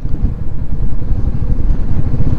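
A motorbike engine rumbles steadily and loudly on a bridge, with a dense low drone and no voices, on a road journey from Nepalgunj toward Karnal.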